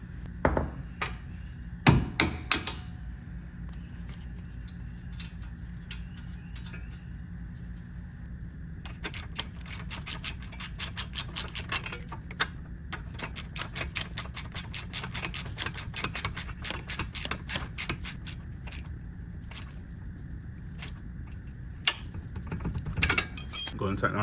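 Rapid clicking of a ratchet tightening the lower ball joint bolt on a 2015 Chevy Sonic during a lower control arm swap, a long close steady run of small metallic ticks with brief speech.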